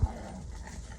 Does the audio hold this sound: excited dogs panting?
yes